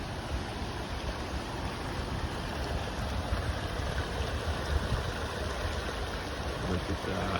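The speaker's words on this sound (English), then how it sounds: "So here's the spring, it's right along the river." A wild hot spring in Pagosa Springs, Colorado, runs into a river in the San Juan Mountains, giving a steady, moderately faint rushing wash of flowing water that holds even throughout.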